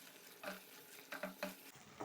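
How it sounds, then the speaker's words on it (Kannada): Spiced masala with chili powder and garam masala fries in a pan for chicken pasta, a quiet sizzle broken by several short scraping stirs of a spoon, with no talking. "ಎಲ್ಲ ಚೆನ್ನಾಗಿ ಮಿಕ್ಸ್ ಮಾಡಬೇಕು. ಒಂದು 3 ಮಿನಿಟ್ಸ್ ಇದು ಕೂಡ ಫ್ರೈ ಆಗಬೇಕು"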